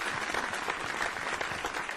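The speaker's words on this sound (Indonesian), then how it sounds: "Tepuk tangan buat Indra Kens." A studio audience applauds a contestant at a comedy roast show, a dense, continuous burst of clapping from many hands that is loud and close throughout its brief span.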